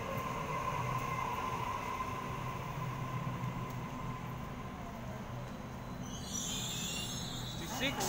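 A Sydney suburban train departs a station, its steady rumble and rolling wheel noise carrying through the whole stretch, with a rising hiss near the end; a person speaks over it.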